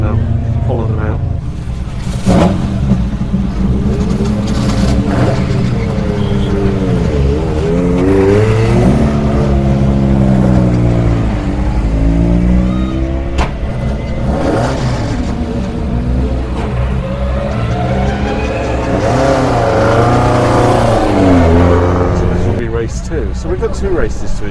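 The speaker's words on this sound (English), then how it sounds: "the classic cars are coming out. This is what I like, seeing my old favourites, the Escorts" Classic Ford Escort race cars pulling out at a motorsport circuit, their engines droning and revving continuously at close range, rising and falling as they move off, with someone talking over them throughout.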